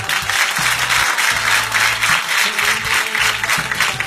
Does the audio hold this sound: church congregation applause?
yes